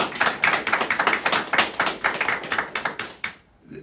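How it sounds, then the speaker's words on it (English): A round of applause at a press event, brisk clapping from a small group, close and fairly loud, fading out at the end. "please join me in praising and giving my guys a round of applause"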